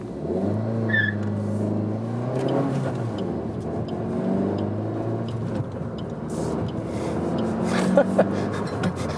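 A 2019 Suzuki Swift Sport's small turbo engine revs up and pulls away from a traffic light, its pitch rising through gears, with steady road rumble and a brief tire squeak near the end.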